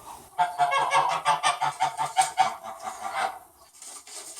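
A flock of chickens and guinea fowl in a coop calling nearby in a rapid, rhythmic series of harsh honking squawks, overlapping and fairly loud, tapering off toward the end.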